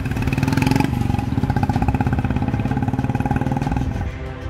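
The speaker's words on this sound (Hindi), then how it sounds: "बाइक चलाते भी नजर आए।" A motorcycle engine runs loud and close as the bike is ridden, a steady throbbing drone with a brief rev at the start, then easing and fading slightly at the end.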